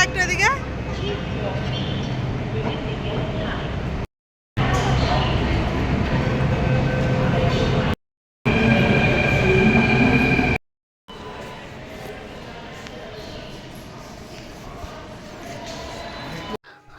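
A Delhi Metro train ride, switching from the Blue Line to the Purple Line, fills the carriage with a loud steady rumble and rail hum, broken by short gaps, with a recorded announcement and voices heard over it.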